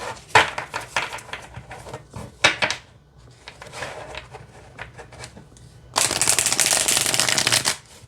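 Tarot cards are shuffled in several quick riffling bursts with short pauses between, ending in a longer, dense riffle up close.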